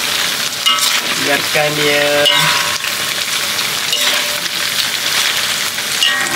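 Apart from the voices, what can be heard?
frying beef dendeng with lemongrass and ginger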